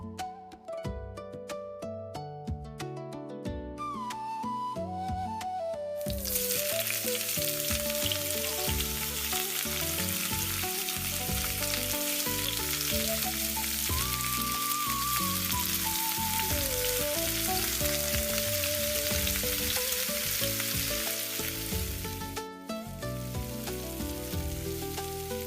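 Oil sizzling in a pan on a stove, a dense, steady frying hiss that bursts in loudly after a few seconds and continues evenly, with background music playing throughout.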